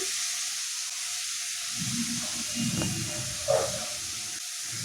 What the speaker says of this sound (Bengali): এবার হলুদ দিয়েও খানিকটা নাড়াচাড়া করে একটুখানি ভেজে নেব, মোটামুটি 1 মিনিট মতো।